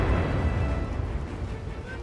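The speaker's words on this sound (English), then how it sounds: "Wait, that was the same bomb as before." A bomb explosion in the video game Far Cry 6 gives a sustained, loud low rumble with rolling debris noise across the whole stretch, and faint voices are present underneath.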